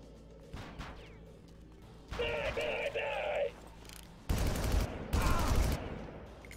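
Gunfire rattles in the volcano ending of the 2004 video game Far Cry, with two loud sustained bursts of automatic fire separated by quieter stretches and rhythmic weapon noise.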